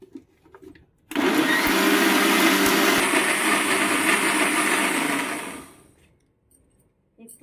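A mixie grinder blends ragi flour cake batter with maida, milk and jaggery: a loud, steady motor whir starts after a second, runs about four and a half seconds, then winds down to quiet.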